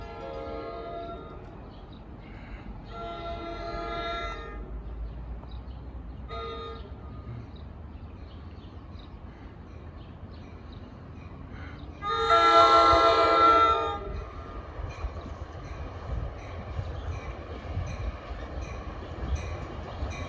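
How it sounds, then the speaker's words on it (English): A New Jersey Transit train bound for Hoboken rumbles past steadily while its horn blows several times, a few short toots early on and then one long, louder blast. "Here comes the train to Hoboken."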